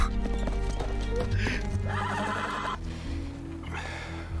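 Horse galloping with clip-clop hooves and a whinny amid a dramatic fantasy TV scene, layered under loud music and background noise throughout.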